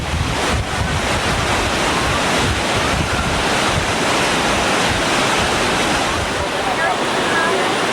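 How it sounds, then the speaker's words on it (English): Rapids rush above the Upper Falls of the Yellowstone in a constant loud roar of churning water, mixed with wind buffeting the microphone. "And these are the rapids above the falls. This is the upper falls of the Yellowstone."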